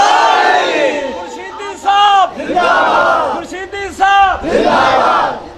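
Crowd at a Sunni religious gathering roaring a chanted slogan response in repeated loud bursts, several surging shouts over about five seconds with voices overlapping, close and full.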